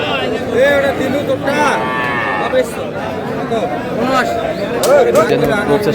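Cattle moo repeatedly at a Dinajpur market selling Friesian and crossbred bull calves, close and loud, mixed with a busy crowd of people talking.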